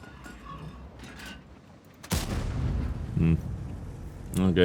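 Tank cannon fire and shell blasts in the World of Tanks video game, with a sharp heavy boom cutting in halfway and a loud rumbling aftermath, followed by another impact near the end.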